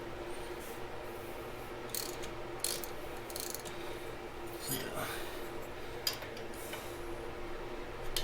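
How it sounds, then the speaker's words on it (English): A wrench ratchets on the nut of a Harley-Davidson Iron 1200 Sportster rear shock in a few short clicking bursts against a quiet, steady background, with no talk over it. "getting the wrench in there isn't that easy. You got to get the right angle. And alright, so we got the nut."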